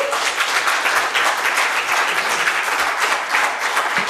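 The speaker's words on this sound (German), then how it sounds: "nochmal einen tosenden Applaus" Thunderous applause from a tech conference audience, loud and sustained, a thick continuous roar of many hands clapping close by for the full stretch without talk.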